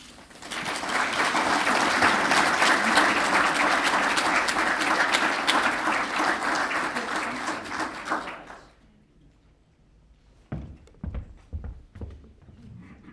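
Audience applause fills an event hall as two speakers are welcomed at a 200th anniversary celebration, loud sustained clapping for about eight seconds before fading, followed by scattered bumps and handling noises.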